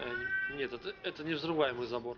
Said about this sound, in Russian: Кошка мне орёт